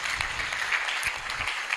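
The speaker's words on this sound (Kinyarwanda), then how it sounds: "Reka tubakomera amashyi menshi cyane." A church audience claps for a choir, a steady, fairly faint patter of many hands filling the whole moment without a break.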